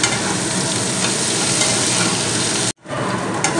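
Eggplant slices fry in oil over a high gas flame with a loud, dense, continuous sizzle, which cuts out abruptly for a moment before resuming.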